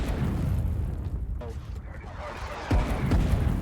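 In a war video game, Colonial artillery cannons fire in a rumbling barrage with deep booming blasts, the sharpest one coming late, under a dense wash of battlefield noise and a voice.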